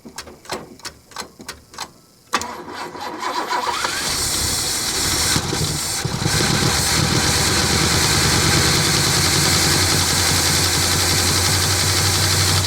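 Neglected 1967 Lincoln Continental, sitting for 29 years, cranks with rhythmic starter turns, then catches and runs at a loud, steady idle with an audible clatter.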